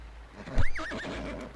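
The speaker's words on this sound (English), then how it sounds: "Yeah, some wild horses." A wild horse in the Second Life virtual world gives one clear whinny with a rising and falling pitch, close and loud over a low ambient hum.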